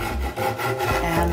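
Hand rubbing and rasping as the sharp edge of a hypertufa bowl is rounded off for a crevice garden, a steady close abrasive scraping in short repeated strokes with no talk.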